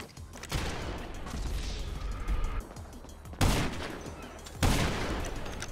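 Gunfire and grenade blasts in a shooter video game: sustained rapid firing runs across the stretch, with two sharp, loud explosive bursts landing near the end and no talking.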